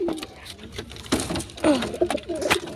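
Pigeons coo in a series of soft, throaty calls close by, several short bursts spread unevenly across a few seconds with light rustling between them.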